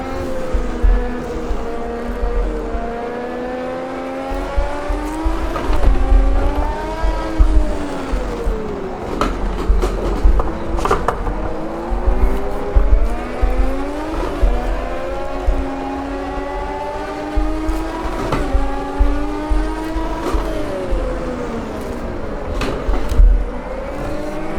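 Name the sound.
race car engine and tires in video game Automobilista 2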